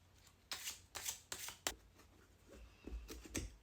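A deck of oracle cards is shuffled up close, several sharp riffling bursts followed by softer sliding and tapping of cards.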